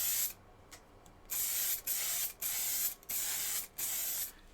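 Lacquer sprayed onto a wide-rimmed wooden bowl in close, loud hissing bursts, about seven spray pulses separated by short silent gaps.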